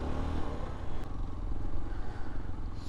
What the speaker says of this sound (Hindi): तब से चल ही रही है बाइक